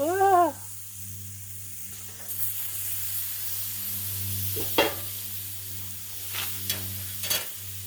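Pork chops sear on a Blackstone griddle with a soft, steady sizzle, broken by a few sharp spatula scrapes and taps close by.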